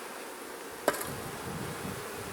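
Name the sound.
honeybees buzzing around an open hive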